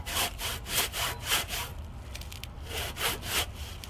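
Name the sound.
hand sawing wood instead of using chainsaw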